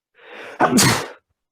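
A single loud, close sneeze: a short breathy intake followed by a sharp explosive burst, then silence.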